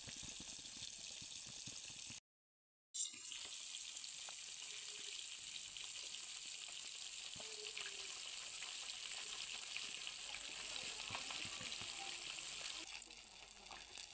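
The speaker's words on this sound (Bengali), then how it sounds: "এই যে মাছ ভেজে নেওয়া হচ্ছে।" Fish frying in oil in a pan, a constant close crackling sizzle with scattered pops and spits, interrupted by a brief moment of silence near the start, then continuing steadily to the end.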